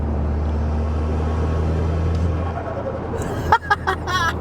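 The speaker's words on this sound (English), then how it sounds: "who doesn't love a turbo flutter?" A turbocharged 400bhp hot hatch idles with a steady low engine drone, then near the end a burst of sharp, fluttering chirps from the turbo as the throttle lifts, loud and close with no talking.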